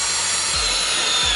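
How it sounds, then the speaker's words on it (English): A power drill boring a pilot hole in a VW T2 campervan, a steady loud whirring grind with a couple of brief dips in pitch as the bit bites. "I'm gonna drill a quick pilot hole"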